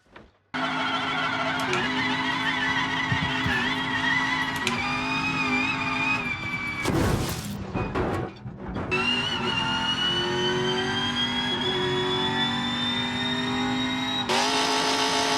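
A C6 Corvette Cup race car from BeamNG.Drive roars steadily near and loud, its engine tone climbing through gears, with a brief chaotic crash-like burst midway and renewed revving toward the end.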